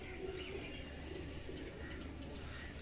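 Golden kamgar high flyer pigeons with red eyes coo softly in a loft in Andheri, Mumbai, with low, repeated murmuring calls over a steady background hum and no talking.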